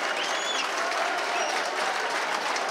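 A rugby league stadium crowd applauds steadily as an injured player leaves the field, a broad, even wash of distant clapping with faint cheers and no break.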